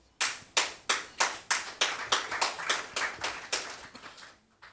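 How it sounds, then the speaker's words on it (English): A single person clapping at a political speech, about a dozen distinct, fairly close hand claps in a steady rhythm that slows and fades toward the end, heard alone. "That's the Minister of Local Government clapping."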